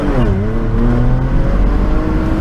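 A 2015 Porsche Macan Turbo's turbo V6 engine revs up under acceleration, its exhaust note rising steadily in pitch, loud and close, with no voices.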